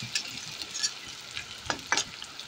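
Chopped onion, garlic and dried shrimp frying in a pan, a steady close sizzle broken by several brief scraping stirs.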